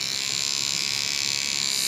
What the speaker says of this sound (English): I also use a kid's battery operated toothbrush.